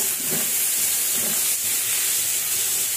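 Bitter gourd (karela) slices with a little turmeric frying in a pan on a home stove, a steady close hiss and sizzle running the whole time with no talk.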